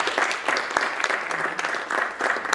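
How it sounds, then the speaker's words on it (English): Steady audience clapping for student union officer candidates at a university Q&A, dense and fairly close, continuing evenly without a pause. "Can we please give them another round of applause"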